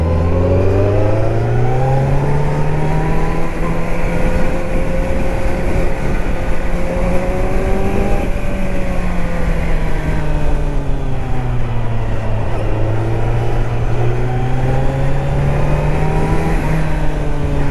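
A Kawasaki Z900 motorcycle accelerates hard and close by, its engine note climbing repeatedly through the gears in rising sweeps, each shift dropping the pitch before it winds up again, loud and continuous with no talking.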